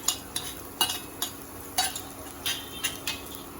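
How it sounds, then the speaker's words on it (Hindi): Chopped green chili, garlic and ginger fry in a pan while a utensil strikes and scrapes the metal in a loose, repeated rhythm. The clinks stand out over a faint, steady sizzle, with no voices. "ये तीनों को हम फ्राई कर लेंगे थोड़ा"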